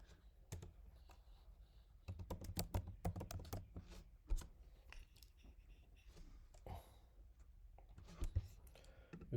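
Quiet, close typing on a computer keyboard, irregular bursts of key clicks with short pauses between, no voices.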